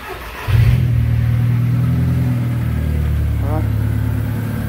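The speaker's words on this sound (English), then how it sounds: "fire up the car and see what happens" A VW MK4 Golf GTI with the 1.8T engine cranks and fires up, then settles into a steady, loud, close idle rumble, with a brief voice partway through.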